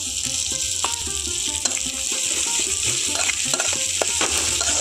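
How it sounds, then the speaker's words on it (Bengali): Onions and ginger-garlic paste fry in hot oil for a Bengali jackfruit curry, a loud, steady sizzle broken by intermittent clicks and scrapes of stirring, with no voices. "এবার পেঁয়াজটাকে খুব ভালো করে তেলের মধ্যে ভেজে নিতে হবে"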